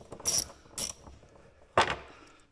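A ratcheting socket wrench with a long socket and universal joint works bolts loose on a Polaris Ranger 570 clutch cover, giving three short, sharp ratchet bursts close by with quiet gaps between them.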